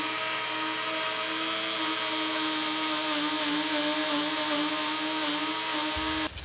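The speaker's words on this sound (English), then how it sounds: "you're just going to add it to a blender or any grinder, and all you're going to do is just going to make a bit of powdered sugar" A blender grinds sugar into powdered sugar, a loud, steady high-pitched motor whine running continuously at close range before cutting off abruptly near the end.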